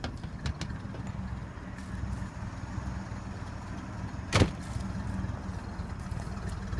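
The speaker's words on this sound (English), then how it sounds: "It's running right now, just on low idle." A Winnebago F-17 engine putters at low idle through a new exhaust, a low, steady rumble kept fairly quiet, with a brief sharp knock partway through and small clicks scattered around it.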